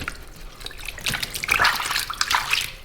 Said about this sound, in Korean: 물 좀 이제 아예 틀어놓고 있게